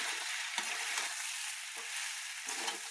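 Ingredients being stirred in a hot frying pan with sugar and salt for a leftover idli breakfast: steady close sizzling with rhythmic scraping strokes of a spatula roughly every second.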